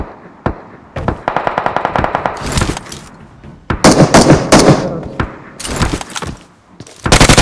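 Bursts of rapid automatic gunfire and single loud shots from a video game, aimed at a boat, come in repeated volleys with short pauses between them. The shots are close and loud, and faint voices sit underneath.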